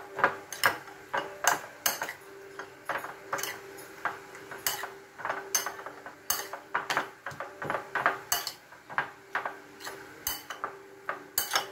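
Meat being mixed and marinated in a bowl for creamy beef with mushroom, with steady clinking and scraping of a utensil against the bowl in an irregular rhythm, close and clear, no talking.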